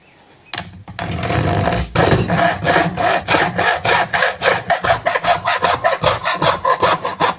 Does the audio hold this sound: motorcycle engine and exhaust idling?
no